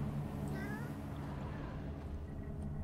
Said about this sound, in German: Schwarze Katze.